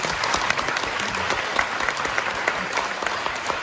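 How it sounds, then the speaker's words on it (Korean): Steady, dense applause from wedding guests fills the hall right after the ceremony's declaration of marriage, with a continuous clatter of many hands clapping at even volume throughout. "큰 박수 부탁드리겠습니다"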